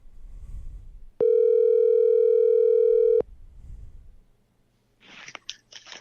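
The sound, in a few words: telephone ringing on a call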